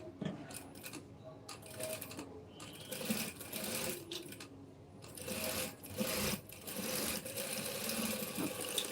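Sewing machine running in bursts while a blouse sleeve is stitched, a steady close mechanical whir that stops and restarts several times over the stretch.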